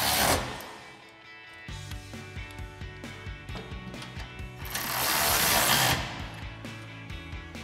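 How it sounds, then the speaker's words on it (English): Ratchet with a 13 mm socket tightening light bar bolts on a 2019-2021 Silverado 1500 front bumper, giving rapid repeated clicking in quick strokes with brief pauses, close and moderately loud. "we're gonna tighten up our two sides, again using our 13 millimeter socket and our ratchet"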